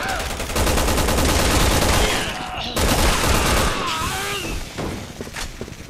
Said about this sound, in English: Don't you dare shoot at Chris Redfield